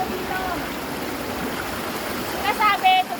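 Mountain spring water flows steadily into a river in Hong Kong, a constant close rushing wash with a brief brighter splash near the end and no clear speech.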